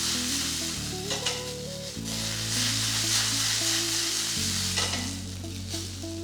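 Vegetables and boiled green peas sizzle in an oily pan while being stirred, a steady close frying hiss broken by scraping stirs, with music playing underneath.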